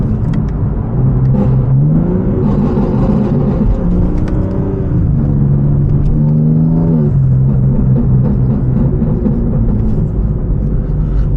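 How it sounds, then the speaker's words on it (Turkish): Exhaust of a BMW G82 M4 with a Stage 2 tune, about 690 hp, heard from inside: a loud, steady engine drone with rising and falling pitch as it revs, throughout without talk. "Şurada bir burble."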